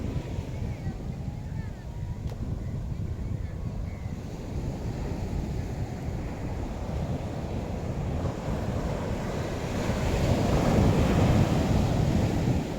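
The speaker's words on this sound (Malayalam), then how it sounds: "നല്ല വലിയ തിരമാല" On the beach at Alappuzha, large sea waves roll and hiss in a continuous wash mixed with wind noise, the surf swelling louder near the end.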